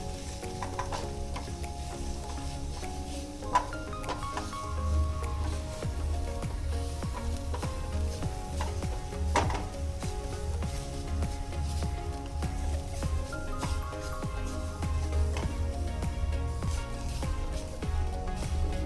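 Spices for a gobhi paratha filling (ajwain, red chilli, chaat masala, garam masala, coriander powder and salt) frying in a pan, a continuous close sizzle with scraping stirs and occasional spoon knocks throughout.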